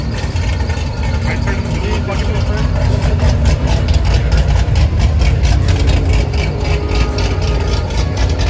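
Cars sit idling in a long traffic jam at the entrance to a large car show, a constant low engine drone close by with a steady texture, while people talk over it.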